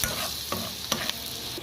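Garlic sautés in a pan, a steady sizzle and frying crackle broken by a few sharp stirring scrapes and clinks, close and fairly loud with no talking.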